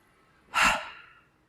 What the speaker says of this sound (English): take a breath in and breathe in, bring your shoulders right up, and then let go, breathing out